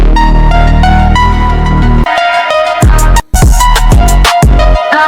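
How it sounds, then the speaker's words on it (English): AI-generated hard-hitting trap beat with booming 808 bass, crisp hi-hats and a tense melodic line, briefly dropping out to silence before slamming back in. "trap beats with banging 808 and tension melody."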